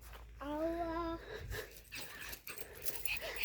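A small dog whimpers with high, wavering whines, followed by scattered soft yelps and snuffles, close by and fairly quiet.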